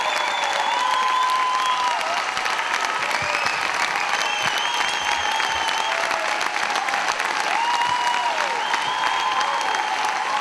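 Sustained applause and cheering from an audience at a charity evening in Hungary, a dense continuous roar of clapping with whistles and shouts over the whole stretch.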